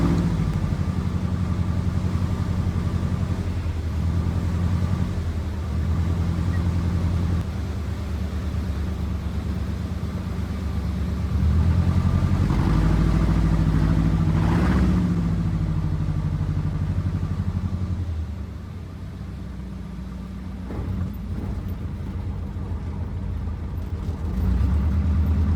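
A small airplane's engine drones steadily as it circles on a right downwind and base to land on a river sandbar, the tone swelling and shifting midway, then dropping in power toward the end.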